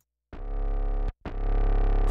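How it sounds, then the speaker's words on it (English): A dubstep-style synth bass is pushed through Ableton's Roar distortion effect, two long, buzzing, gritty sustained notes separated by a brief gap, loud and upfront with no voices. "The distortion with roar."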